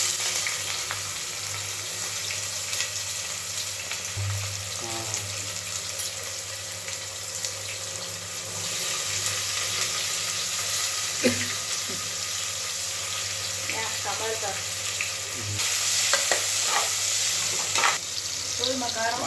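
Mutton kulambu curry bubbles and simmers in a pan with a steady low sizzle, broken by occasional scraping stirs and clinks of a spoon.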